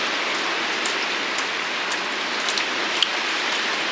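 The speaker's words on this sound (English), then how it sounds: "look at how it is storming. Y'all hear that wind?" Heavy rain during a storm, a dense constant hiss of rainfall with scattered sharper drops and wind mixed in, loud and steady throughout.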